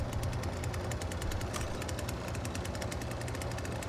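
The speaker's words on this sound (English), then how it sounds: "It's L2 to rev your chainsaw," Chainsaw revving in the Texas Chain Saw Massacre video game, a quiet rapid rattling engine chatter that holds steady throughout.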